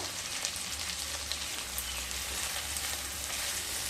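Sliced onions with a spoonful of garlic paste fry in a pan for a soybean do pyaza, giving a soft, steady sizzle and crackle heard alone at low level.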